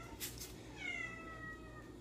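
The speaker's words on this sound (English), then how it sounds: "That's a cat meowing." A cat meows twice in quick succession, the second cry drawn out, fairly faint against a low steady background hum in a kitchen.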